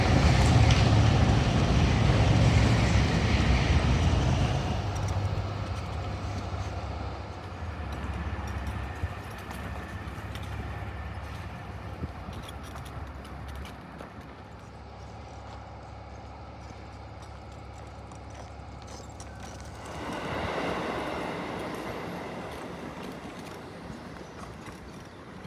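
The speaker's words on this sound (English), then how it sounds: "There goes the train." A bullet train in Japan rumbles past nearby, a loud sustained roar that fades away and then swells again briefly toward the end, with no talking.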